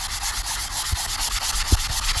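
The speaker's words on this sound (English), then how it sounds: "For this sander, I'm going to need a lot of elbow grease, or either a more coarse sponge" A sanding sponge rubs back and forth over a fake wood surface in steady, close scratchy strokes, with a few soft knocks and no talking.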